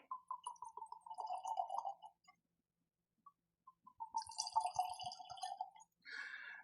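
Scapa Glansa whisky gurgles out of the bottle in two bursts of rapid glugging, separated by a brief near-silent pause, followed by a short splash at the end, all close and fairly quiet.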